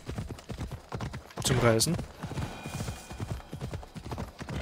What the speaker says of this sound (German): Ah, wir haben ja ein Pferd, ne? Komm mal her da.